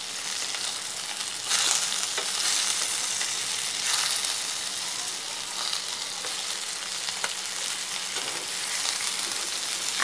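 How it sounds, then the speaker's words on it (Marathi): Rava-coated surmai fish slices sizzle steadily in a hot pan for Malvani fry, a dense, continuous crackle close by with a few brief louder bursts, no one talking. "बघूया आपल्या दुसऱ्या बाजूने सुद्धा फ्राय झाली आहे का"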